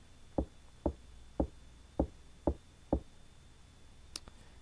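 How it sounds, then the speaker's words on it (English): Stuck door in the video game Clock Tower, giving six evenly spaced hard knocks or rattles about half a second apart, then a faint click, each sharp and close against a low hum. "The door seems to be stuck. I can't go out that way yet."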